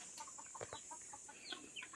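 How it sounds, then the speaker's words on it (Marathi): Country chickens on a village poultry farm, several soft clucks and short calls scattered over a faint steady background hiss, fairly distant and quiet, no voices. "हे आमच्याच घरातल्यांनी प्रकल्प केलाय गावठी कोंबड्याचा."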